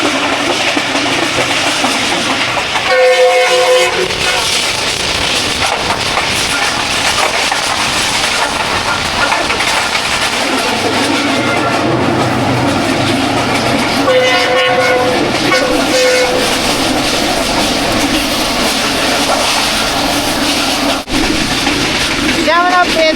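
A train crosses at a small station in Pakistan, a loud continuous rumble and hiss of rolling wagons lasting throughout, broken by a few short horn blasts, with voices talking over it.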